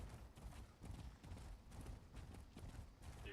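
Horses galloping in a PvP video game, a steady rapid clatter of hooves that stays fairly faint and rough throughout, with no talking.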